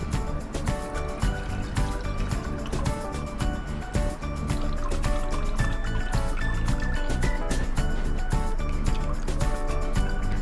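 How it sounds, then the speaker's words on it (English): Water pours and splashes steadily from a container of soaked basmati rice, a continuous liquid gush with dripping and trickling, close and fairly loud. "Let's pour off the water from the rice."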